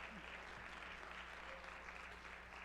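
An audience claps at a Democratic National Committee forum in Detroit as vice-chair candidates are introduced; the applause is a faint, even, steady patter with no break.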